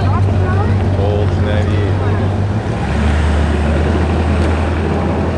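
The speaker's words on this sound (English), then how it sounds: "you hear that engine?" An old 1998 lowrider car idles with a low, steady engine rumble, loud and close, while wind buffets the microphone and voices talk over it.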